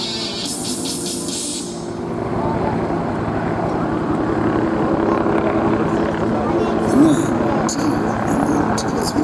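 A Huey helicopter at an airshow rescue demonstration at Maxwell AFB drones steadily with a low rotor rumble, while an announcer talks over it on the public address.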